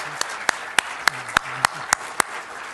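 Audience applause at the closing of an academic security research colloquium at a university in Montreal, heard as a short run of sharp, distinct claps spaced about evenly apart, moderately loud with no talk over it.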